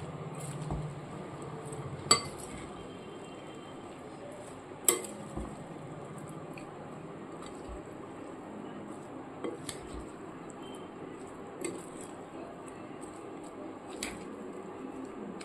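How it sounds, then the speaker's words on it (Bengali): A spoon stirs and mixes aloo kabli, a Bengali potato snack, with tamarind pulp in a bowl, giving soft continuous scraping and squishing with a few sharp clinks against the bowl, close and fairly quiet. "এবার পুরো মিশ্রণটাকে খুব ভালো করে মেশাতে হবে।"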